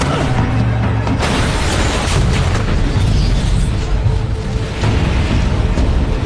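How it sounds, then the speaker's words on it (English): A massive movie explosion as a tanker truck is rammed and blows up, a loud sustained roaring boom with heavy low rumble and crackling debris filling the whole stretch, no pauses. "The massive explosion bought the DEA agents a sliver of time."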